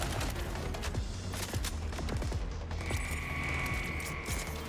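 Rapid SMG bursts in a video game, dense rattling automatic fire repeating over steady game background noise, loud and continuous with no talk.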